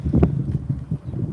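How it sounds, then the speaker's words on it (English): Low, buffeting rumble of wind hitting a microphone while crabbing outdoors, steady with uneven gusts throughout, no voices. "I know it's a little windy."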